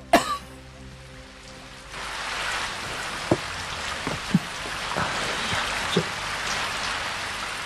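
Rain begins falling outdoors, a steady broad patter on surfaces with scattered louder drops and splashes striking nearby, after a brief musical sting at the start.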